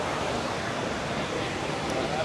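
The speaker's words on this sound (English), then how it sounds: "There's a waterfall over here." A waterfall at Legoland California gives off a steady, even rushing wash of falling water, a moderate constant hiss with no breaks.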